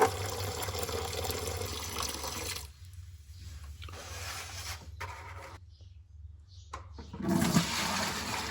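Coolant draining from the radiator of an antique truck, a loud continuous gushing and splashing stream close by that thins and gurgles midway before surging again near the end.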